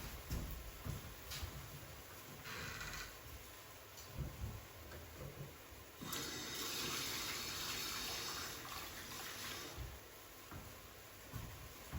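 Tap water running at a kitchen sink while hands are washed during soup cooking, a steady soft stream with a fuller surge in the middle, faint and fairly distant.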